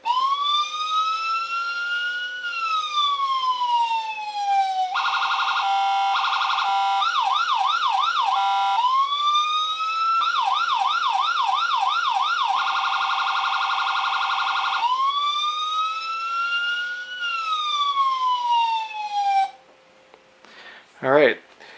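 A model police car siren on a toy train layout cycles through wailing sweeps, rapid yelps and warbling hi-lo tones, loud and close, before cutting off near the end with a brief clatter.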